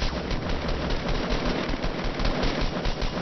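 Rapid automatic gunfire from the Fortnite Battle Royale video game rattles in dense, continuous bursts, loud and close, with no talking over it.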